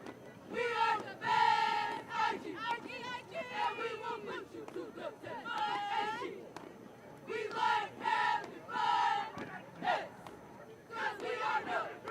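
High school cheerleaders at a Wichita Heights varsity football game chant in loud rhythmic unison, with repeated shouted phrases and brief pauses, and crowd noise beneath.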